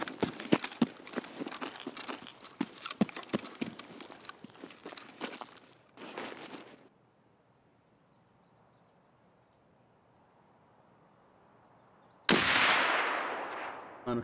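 Gunshots in the video game Escape from Tarkov: a rapid burst of loud, sharp cracks over the first six seconds, then near silence, then another loud blast with a rushing tail near the end.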